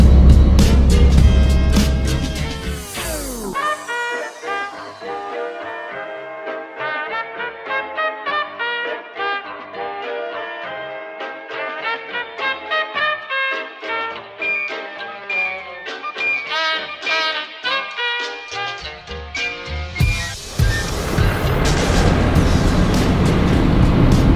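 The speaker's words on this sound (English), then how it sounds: "So we've just got a bit of a beach drive now." A 4WD driving along a sandy beach on Fraser Island, rough engine and wind rumble at the start and end, largely covered by music in between.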